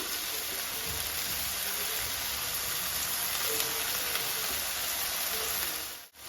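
Steady hiss and sizzle of chopped bottle gourd leaves frying in a spice paste of coriander, cumin and chili powder for a Bengali fish-head curry, an even wash of crackling throughout that cuts off abruptly near the end.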